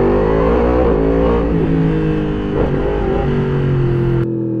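Yamaha MT-10 SP motorcycle fitted with an Akrapovic exhaust, accelerating hard in first gear, a loud close engine roar with the rising drone of long revs and a brief dip partway through, then cut off at the end.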